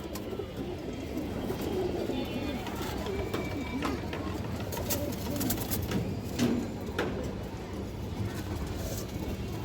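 Silver pigeons with black tails and wings, kept among other fancy pigeons, coo softly and steadily amid a busy background of ambient noise, with occasional sharper sounds and someone speaking nearby.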